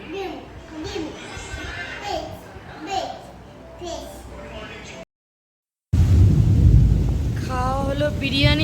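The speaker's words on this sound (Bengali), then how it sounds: "একদম মুসলধারে বৃষ্টি সেই বৃষ্টি আর বাতাস" A heavy monsoon downpour with wind and thunder. Children's voices talk over a softer patter at first, then, after a brief cut, a loud, close roar of rain and wind with deep rumbling takes over.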